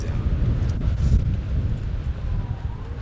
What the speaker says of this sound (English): It was so windy right here.